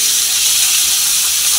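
Onion paste hitting hot oil, giving a loud, steady sizzling hiss that fills the whole moment with no pauses.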